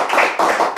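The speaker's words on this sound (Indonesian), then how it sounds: "Tepuk tangan dulu baru ya" Short burst of hand clapping from a small audience at a talk celebrating nine years of a village law, a few quick claps close by with no voices.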